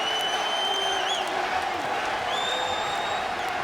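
A UFC arena crowd roars and cheers during a Henderson versus Pettis fight, a loud sustained wash of noise with whistles and whoops rising above it throughout.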